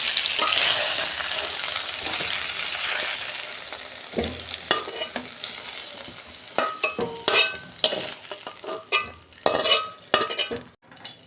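Oil sizzles steadily in a wok, then a loud crackle and hiss as nigella seeds and onion drop in, followed by stirring scrapes and spitting.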